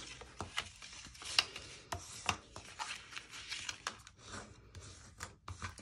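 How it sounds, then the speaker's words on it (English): A bone folder rubs and burnishes fold lines on a paper box, giving soft, quiet scraping strokes and a few small taps spread through the clip, with no speech. "get that bone folder, burnish all those lines"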